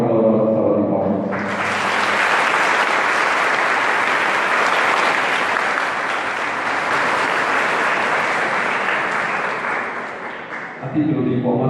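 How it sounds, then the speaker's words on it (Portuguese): A warm round of applause for a speaker at a parish's 160th-anniversary celebration rises after brief speech, sustains as loud dense clapping from a large gathering for about nine seconds, then fades back to talk. "Vamos agraciá-lo com a calorosa salva de palmas."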